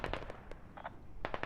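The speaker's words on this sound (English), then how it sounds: "I think I hear mortar tubes." Mortar tubes fire in a military video game, a rapid series of sharp percussive bursts in clusters at moderate distance, with no voices.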